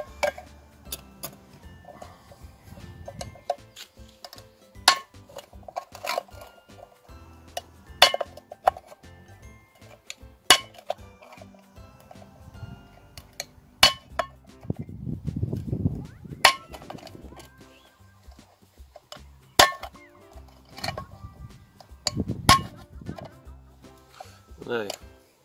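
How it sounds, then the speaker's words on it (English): A tin can is punctured with holes around its side for cooking an egg outdoors, producing sharp, scattered metallic clicks and clinks at irregular intervals, with quiet talking in between. "I'm going to puncture a hole somewhere around here, about two-thirds of the way up the can"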